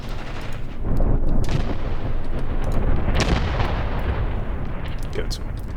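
Artillery guns firing in the war game Graviteam Tactics: a dense, loud rumble of booms and blasts that rolls on without a break, with a sharper burst near the middle.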